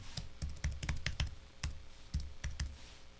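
Fast, uneven bursts of key clicks from typing a password on a Mac computer keyboard, close and fairly quiet, with short pauses between clusters of keystrokes.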